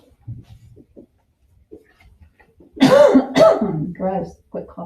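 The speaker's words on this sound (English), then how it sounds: "Gross, quit coughing." A teacher coughs during a classroom biology lecture on cellular respiration: after faint rustling, a few loud rough coughs and throat-clearing sounds right at the microphone, followed by a short bit of speech.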